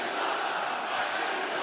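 A packed wrestling arena crowd of over 14,000 roars and cheers steadily at a SmackDown United States Championship match, a dense, continuous wall of noise with no breaks.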